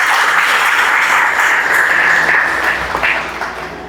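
A church congregation applauds during a Spanish-language worship service, a loud, dense wash of clapping that holds steady for most of the moment before easing off toward the end.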